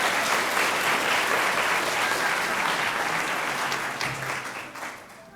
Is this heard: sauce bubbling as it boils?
no